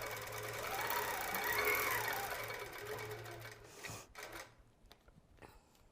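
Longarm quilting machine stitching a baby quilt, a steady mechanical whirr for about four seconds that then stops, leaving a few faint clicks and short bursts of motion.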